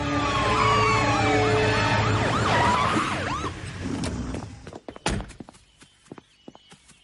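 A police siren from a German-dubbed Disney cartoon wails loudly in rising and falling sweeps, then cuts off, followed by a scatter of sharp clattering hits and footstep-like thumps.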